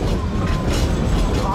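The Georgetown Loop railroad train in Colorado rumbles along with a steady, loud clatter of wheels on track, close and continuous.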